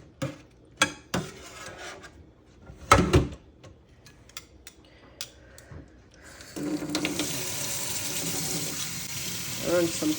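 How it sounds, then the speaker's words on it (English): Cold water runs from a kitchen tap onto boiled salt mackerel in a pot. Clattering and handling noises come first, then a steady splashing rush of the stream. "Run some cold water on that."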